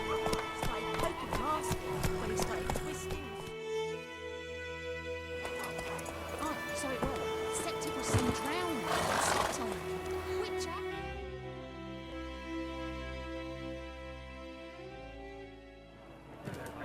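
Horse in The Witcher video game, galloping hoofbeats under game music and voices, with the rider's spoken lines before the clatter fades.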